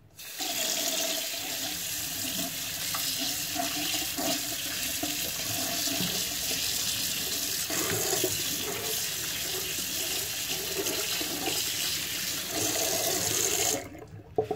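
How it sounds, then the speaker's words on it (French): Carrots being rinsed under a running kitchen tap, a steady close splashing stream of water that continues without pause, then stops abruptly at the end. "Alors pour commencer nous allons rincer nos carottes."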